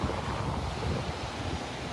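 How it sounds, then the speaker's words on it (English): Ocean surf washing up on Jack's Beach in northeast Florida, a steady broadband wash of water mixed with wind buffeting the microphone, continuous and fairly close with no talking. "The wave just came up and I didn't even see it"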